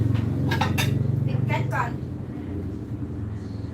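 Stir-fried food with egg being scooped from a pan onto a serving plate: a few bright clinks and scrapes of utensil on metal and dish, heard under someone talking steadily.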